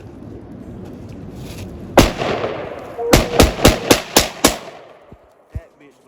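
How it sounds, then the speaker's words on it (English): Handgun shots fired one-handed, likely a Glock 19, at an outdoor range: one sharp loud report, then a rapid string of about six shots with echoing tails, and one fainter shot after. "he shooting that bitch with one hand"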